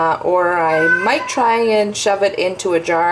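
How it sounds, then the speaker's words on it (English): A chatty Bengal cat meows repeatedly and loudly, long drawn-out cries close by, overlapping with a person talking. "If you can hear meowing, that's my cat."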